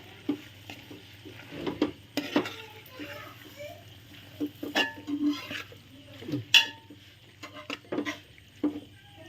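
Avial is being stirred in a pan with coconut oil, giving soft intermittent scraping and light sizzling up close. Scattered clinks of a utensil on the pan break in, and a person talks between the sounds.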